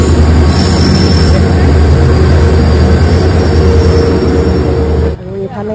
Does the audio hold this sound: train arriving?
yes